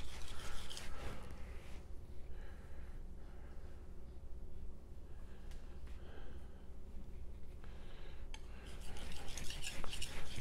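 A blade is sharpened on a 5000-grit ceramic whetstone, a Shapton Kuromaku or Naniwa Professional, giving a faint, gritty, repeated rasping as strokes slide back and forth at an even pace, close by and without talk.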